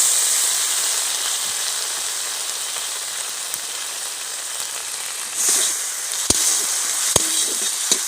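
Onion with ginger-garlic paste and green chilli paste sizzles steadily in a hot pan, a loud continuous hissing fry with a couple of sharp clicks near the end, no voices.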